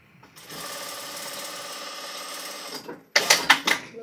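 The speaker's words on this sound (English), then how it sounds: "Reversing over the first few stitches to seal it and lock it. And then just a straight stitch." An electric sewing machine runs a straight stitch on a cushion, giving a steady motor whir for about two and a half seconds, then a few louder, clattering bursts as it stops and starts.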